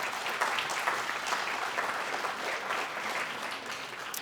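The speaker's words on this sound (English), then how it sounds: "let's give him a big round of applause" An audience at an outdoor Field of Fame unveiling ceremony applauds in a continuous, even wash of many hands clapping, steady and moderately loud without a break.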